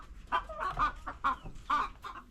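Chickens clucking nearby, a series of short throaty clucks and murmurs in an uneven rhythm, fairly quiet.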